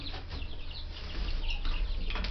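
Several young chicks in a brooder under a heat lamp give off a busy cluster of high, thin cheeps with some scuffling. The sound is close and moderately loud, and no one speaks during it.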